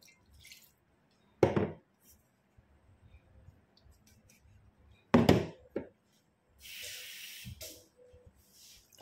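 Water is splashed into a pot of jute mallow on the stove, with two sharp bursts of pouring and dripping and a short hiss. Softer kitchen clatter fills the gaps, and there is no talk.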